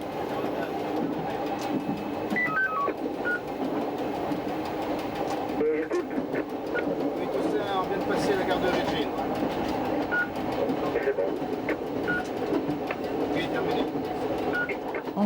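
X 2000 railcar running along a Corsican coastal line, with a steady rolling rumble and engine drone throughout, faint wheel clatter and occasional squeals, and a voice talking over it.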